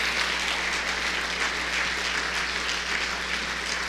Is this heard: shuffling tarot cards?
no